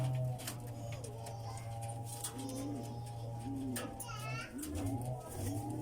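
A pigeon coos softly in a loft, repeated low rolling coos under steady Filipino speech, with other birds and children faintly in the background.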